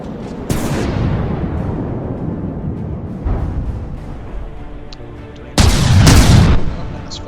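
Warship gunfire in the video game From the Depths: a sharp blast early on, then a rumbling decay and a lighter shot, followed by a heavy, loud double volley near the end.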